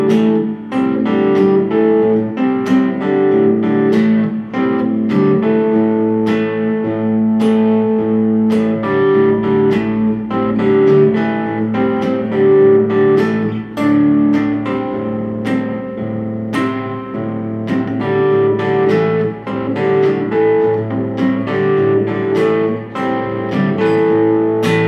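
Electric guitar plays the rhythm part of a song, with crisp downstrokes accenting beats two and four. Clear, steady chord strokes repeat evenly and close up with no voices.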